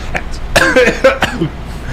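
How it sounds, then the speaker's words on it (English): A short, fairly loud cough bursts out between bits of speech, with a voice talking around it. "Right in the middle of the read, a little cough there."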